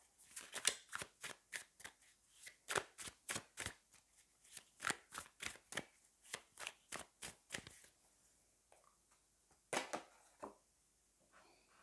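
Tarot cards shuffled by hand, a rapid regular series of crisp riffling flicks, close and clear, then a pause and a final couple of flicks as cards are drawn.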